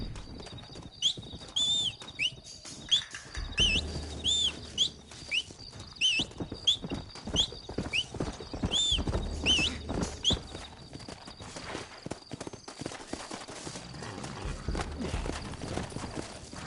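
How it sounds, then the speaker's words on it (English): Horses' hooves clip-clop steadily in the Red Dead Redemption video game, a run of regular hoofbeats with occasional whinnies, background game ambience and bird chirps. "Looks like Carlos left us some horses."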